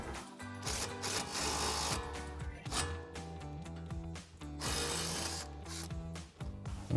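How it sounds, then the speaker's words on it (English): An impact wrench fitted with an 18mm socket spins a sway bar link nut off a 2024 Mustang GT, giving loud rattling bursts over a steady mechanical hum with music-like tones. "we're gonna grab our impacted 18mm socket and take our nut off our sway bar link here"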